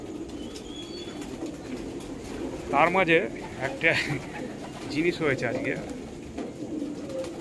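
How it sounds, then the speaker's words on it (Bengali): At night, pigeons feeding together give low coos and a burst of wing flaps, fairly faint beneath someone talking in Bengali over steady background noise. "রাত 8টার সময় সব পায়রা খাচ্ছে"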